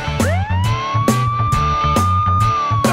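A police car siren from a children's nursery song rises into a long wail and holds over a steady, punchy music beat, loud and close throughout.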